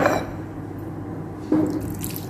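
Water splashes over a clay teapot while raw Puerh tea is rinsed, heard as two short pouring bursts with dripping and trickling between them, close and fairly loud, with no speech.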